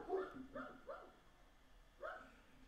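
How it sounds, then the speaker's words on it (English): Neighbours' dogs bark a few times in quick bursts, then once more after a pause, sounding muffled and somewhat distant against a quiet room. "I guess the dogs next door, they don't like the fact that I'm doing this, so they're just going to yell."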